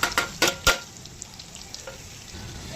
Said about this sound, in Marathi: ते परतून झालं की त्याच्यामध्ये कांदा टाकते मी.